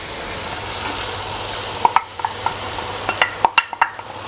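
A spoon stirs vegetables and fried tomato sauce in a pan over very low heat, a steady gentle sizzle broken by a handful of clear scraping knocks against the pan.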